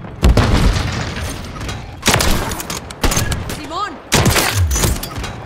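Loud Kar98k sniper rifle shots from a Call of Duty match, several sharp booming cracks spaced across the clip with game sounds and voice chatter between them.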